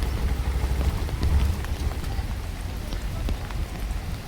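Steady rain falls and patters densely on surfaces, with a continuous wash of drops, a low rumbling undertone and a few sharper splashes, fairly close and even throughout, with no one speaking.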